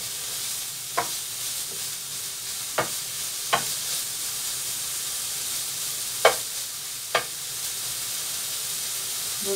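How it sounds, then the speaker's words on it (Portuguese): Bacon sizzling steadily as it fries in a pan without added oil, a constant bright hiss broken by several sharp clinks and scrapes of stirring spread through the clip, with no talk. "Vou deixar fritar um bocadinho"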